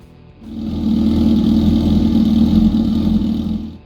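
A Honda CB1000 Hornet motorcycle engine swells up from quiet into a loud, sustained revving drone held near the listener, then tapers off at the end.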